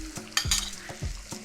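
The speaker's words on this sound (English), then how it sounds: "I'm just going to add a little bit of oil. We're just gonna add onion." Onion frying in a little oil in a frying pan, a steady close sizzle broken by several stirring scrapes and knocks of a utensil against the pan.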